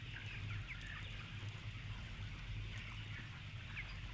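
Steady indoor din of many chickens clucking and chirping in a British chicken farm barn, a constant low hum beneath, with no single bird standing out.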